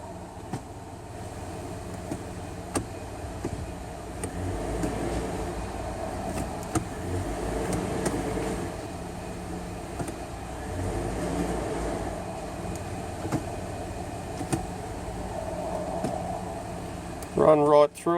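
A car idles with its engine running steadily while the automatic A750F transmission is shifted through all the gears with the brake held after a filter service, giving a continuous low drone with faint clicks and a brief clatter at the end.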